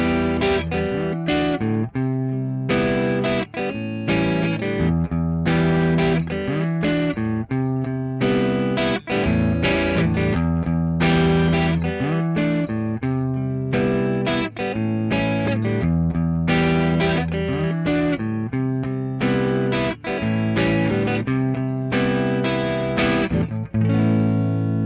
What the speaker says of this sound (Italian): La distorsione regala la quantità giusta di guadagno.